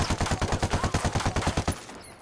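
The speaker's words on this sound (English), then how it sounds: "Now the AK, known for spread." An AK assault rifle fires in Ghost Recon as a rapid, loud burst of about a dozen evenly spaced shots lasting nearly two seconds, then stops abruptly.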